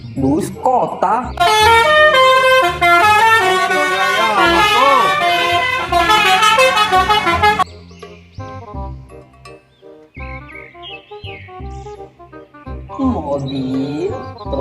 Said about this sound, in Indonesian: Mobil bus kota.